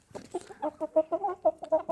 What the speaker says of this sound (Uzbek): Mana sizlar uchun bardovoy qizil jo'jalar.